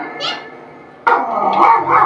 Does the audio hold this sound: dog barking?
yes